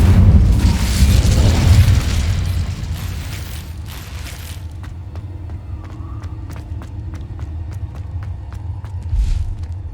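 In Hogwarts Legacy, an Incendio fire spell goes off with a loud, deep whooshing boom that rumbles for a couple of seconds and then fades, followed by quieter crackling ticks and a final low thump.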